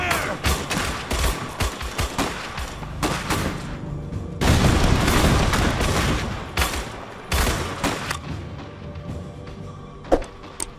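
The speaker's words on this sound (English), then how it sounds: "We're taking fire!" Gunfire in an Iron Harvest real-time strategy battle, heard as dense volleys and bursts of shots mixed with booms, loud and continuous with brief lulls and a sharp crack near the end.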